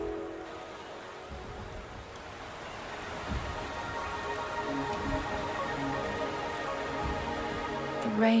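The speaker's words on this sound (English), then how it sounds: "The rain is subsiding," Rain falling steadily in the video game Wuthering Waves, a dense even patter of drops on surfaces that swells slightly toward the end, with no talking over it.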